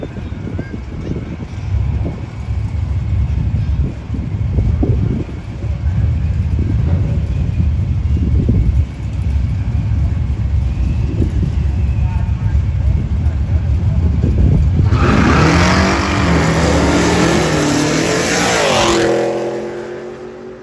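A C4 Corvette and a Camaro in a no-prep drag race: distant engine rumble and crowd noise under wind buffeting, then a loud roaring pass surges in near the end before fading.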